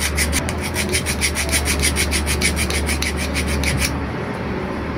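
A screwdriver rubs rapidly against a sewing machine needle to dull its point, a loud, gritty rasping in quick regular strokes that stops near the end.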